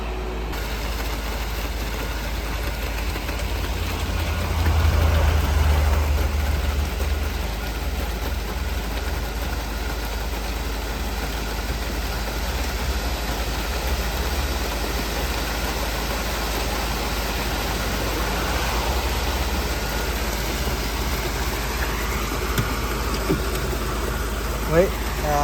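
A concrete mixer truck's engine idles steadily at a building site where a security wall is being poured, a low continuous rumble running throughout with faint voices talking under it.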